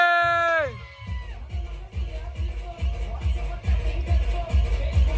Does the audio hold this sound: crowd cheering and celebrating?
yes